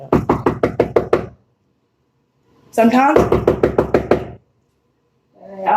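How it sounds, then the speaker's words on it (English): Two bursts of firm knocking on a door, each a quick run of about eight evenly spaced raps, close and loud, separated by silence, with another knock just starting at the end. "I'm going to try to knock again."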